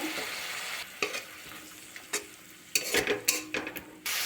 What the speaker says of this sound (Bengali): 1 চামচ ধনে গুঁড়ো, পরিমাণ মতো লঙ্কা, আর একটু জল দিয়ে মশলাটা কষে নেব।